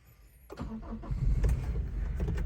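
A 2023 Toyota Fortuner engine cranks briefly and catches, settling into a steady low idle, close and fairly loud with no talk over it.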